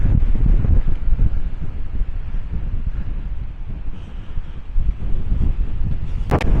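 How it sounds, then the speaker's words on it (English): Dry wind blows hard across a Hawaiian sea cliff above the green sand beach at Papakolea, a steady loud roar buffeting the microphone with blowing sand grains, no voices heard. "how dry this wind is and how the grains of sand are kind of sandblasting us a little bit"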